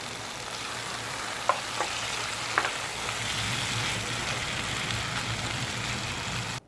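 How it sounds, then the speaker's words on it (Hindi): Mutton sizzles steadily in oil with julienned ginger in a karahi, a soft continuous hiss with a few faint clicks of stirring, no talking. "अभी हम गोश्त को भूनते रहेंगे जब तक कि इसमें से ऑयल थोड़ा सा सेपरेट ना हो जाए"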